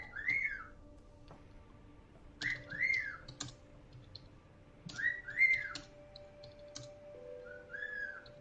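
A bird in the video game Erica whistles short rising-falling chirps in four separate bursts over a quiet room tone, with faint clicks between them.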